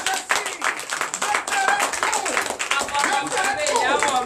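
Congregation clapping during a night prayer and prophecy service, rhythmic, loud hand claps from many people with voices and shouts mixed in.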